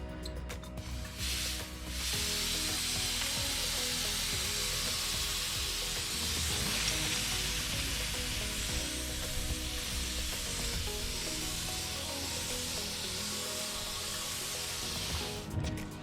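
Steady spray-gun hiss laying base coat color onto a repaired car bumper during a mobile repair job in Phoenix, Arizona, running continuously at close range after a short start, with brief pauses near the beginning and end.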